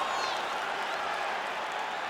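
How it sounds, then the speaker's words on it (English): An arena crowd at a mixed martial arts featherweight tournament final cheers and applauds after a fight goes the full distance, a steady, dense wash of clapping and roaring that stays fairly distant throughout. "Stand and cheer, ladies and gentlemen."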